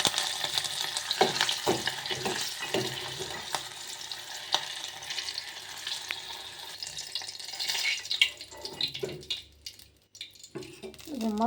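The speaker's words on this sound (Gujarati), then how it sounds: "હવે આપણે પેલા હા ને મરચાં વઘારી નાખીએ" Chillies frying in hot oil for tempering, a close, continuous sizzle with stirring clatter and bursts of crackling, a speaker audible at times over the cooking.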